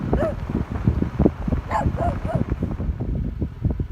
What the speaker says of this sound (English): they have dogs out here too